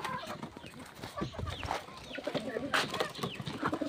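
Breeder chickens cluck and call while feeding at close range, overlapping bursts of clucking with occasional wing flaps, fairly soft and continuous.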